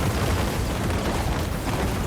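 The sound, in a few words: large area bombardment ability exploding, Total War: Warhammer 3 video game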